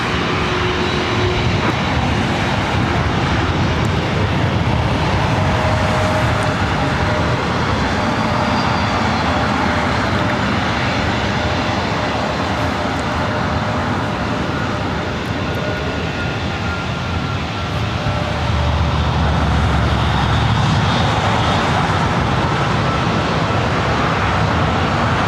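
A jet airliner taking off from runway 24 right at LAX, a loud continuous engine roar and rumble that holds steady for the whole stretch, with no voices.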